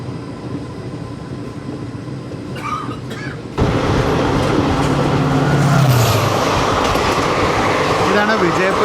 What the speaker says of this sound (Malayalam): ഇതാണ് വിജയപുര യശ്വന്ത്പൂർ എക്സ്പ്രസ്. ചെറിയ ട്രെയിനാണ്, 15 കോച്ച് മറ്റോ ഒന്നും തോന്നുന്നു.